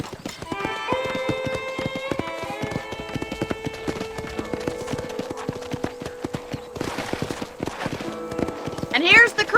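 Horses at a corral in Red Dead Redemption clop their hooves in a steady rhythm with occasional whinnies, close and clear, with a brief rustle near the end.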